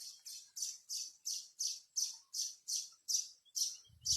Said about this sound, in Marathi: माझा चिमण्या आरडायला लागल्यात.